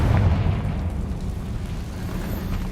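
Deep rumbling explosion from a Confringo spell in Hogwarts Legacy booms loudly at the start, then decays into a long low roar with no talk.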